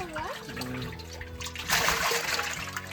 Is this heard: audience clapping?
no